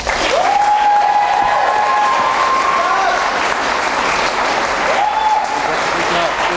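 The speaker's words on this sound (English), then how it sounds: "So please clap for our teachers" Sustained, loud applause from an audience at a 2015 middle school continuation ceremony, steady clapping filling the room for several seconds with a few faint voices and a whistle-like tone riding over it.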